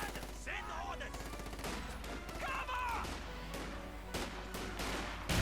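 MG34 machine gun bursts in the real-time strategy game Company of Heroes 2, rapid rattling fire mixed with other gunshots and crashes of battle, with a voice talking over the steady din.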